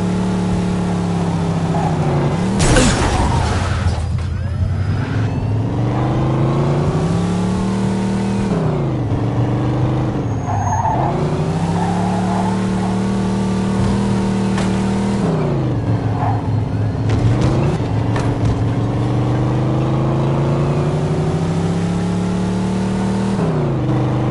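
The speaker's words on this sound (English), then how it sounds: "In pursuit of a speeding vehicle." Car engine in Mafia 2 speeding through a chase, revving hard with repeated gear shifts as the pitch climbs and drops over and over, loud and close throughout, with occasional brief impact noises.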